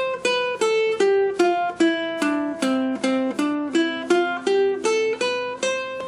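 Ukulele string plucked with the index fingernail, giving a thin, bright tone: a steady series of single notes about every half second, stepping down and back up in pitch, close and clear with no talking.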